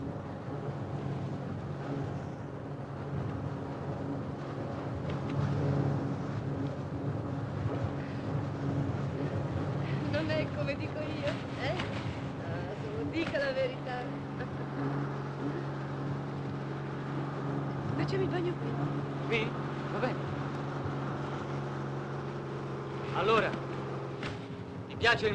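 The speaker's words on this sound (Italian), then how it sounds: "Il motoscafo?" A motorboat engine drones steadily as a low, continuous hum with wind buffeting, under a conversation between a man and a woman.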